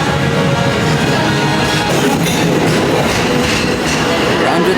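A train rolls steadily along the rails, its broad, continuous rumble loud and close throughout, with no clear gaps, heard from beneath the tracks.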